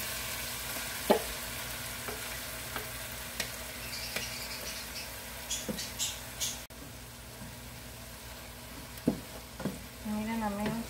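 Izote flowers frying in a pan with tomato and onion, a soft steady sizzle under occasional stirring clinks and scrapes.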